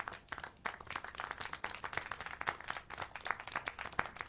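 Crowd applause from the video game Syberia The World Before: dense, continuous hand clapping with sharp individual claps standing out, steady and fairly distant, with little else heard.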